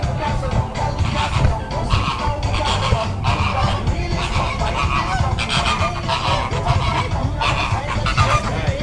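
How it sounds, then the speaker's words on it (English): A dense flock of Caribbean flamingos at Ardastra Gardens honking continuously, loud and close, the calls overlapping into a steady noisy chorus with shuffling underneath. "Here comes the national birds of the Bahamas, the Caribbean Flamingo."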